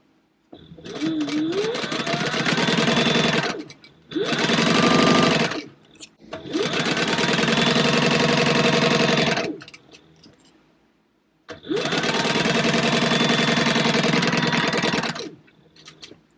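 A sewing machine stitches down the seams of a trunk purse in four steady, close bursts of rapid whirring, each separated by a brief pause.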